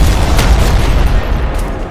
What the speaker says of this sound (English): Nade launcher starting to lose a bit of its kick.